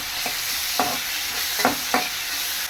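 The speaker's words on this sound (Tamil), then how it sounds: "நல்லா வதக்கிக்கலாம்" Chopped green chillies, onion and tomato are stir-fried in oil in a pan. A steady sizzle carries through the whole clip, with a few soft scraping stirs of the spatula heard close up.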